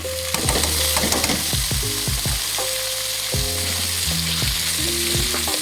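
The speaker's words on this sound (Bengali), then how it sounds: "এবার এগুলো 2-1 মিনিট একটু ফ্রাই করবো" Parboiled vegetables for fried rice frying in a hot pan: a loud, steady sizzle close by, with rhythmic spatula scrapes and clinks against the pan throughout and no speech.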